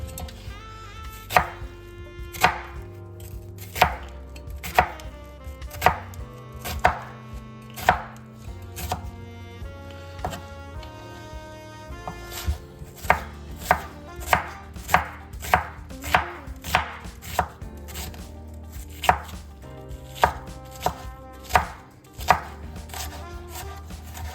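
A knife chops onion and celery on a cutting board for stuffing, with sharp, loud strikes, slow and spaced at first and then quicker, tighter runs. Everything is close and there is no speech.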